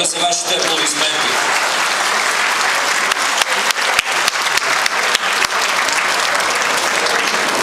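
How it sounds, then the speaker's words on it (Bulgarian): Steady audience applause fills a congress hall, a dense, loud wash of many hands with a few sharper individual claps standing out, continuing without a break. "Моля за вашите аплодисменти."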